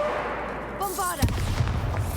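Bombarda blasting spell in Hogwarts Legacy: a brief rising, chirping magical whoosh followed by a sharp, loud explosive thump and a short rumbling tail, close and punchy.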